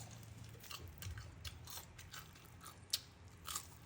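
Someone biting into crispy kare-kare at close range, soft crunches and chewing with a sharper crack near the end, fairly quiet with no talk.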